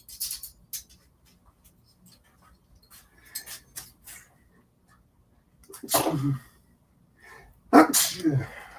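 A single sharp sneeze bursts out close by, followed moments later by a second sneeze-like burst, with quiet rustling and faint scratchy handling noises in between.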